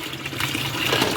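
A tap opened fully, with water rushing strongly, sounds as a continuous loud broadband hiss and splash over the whole short stretch.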